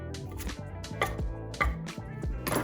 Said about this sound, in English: Got some lettuce, some green leaf lettuce. Just gonna give that a rough chop.